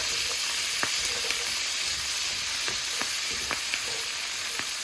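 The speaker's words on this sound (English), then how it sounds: "I'm going to add our dark greens. And we're just going to let those saute." Outer dark cabbage greens sauté in a hot pan, giving a steady close sizzle dotted with small pops and crackles, with no talking.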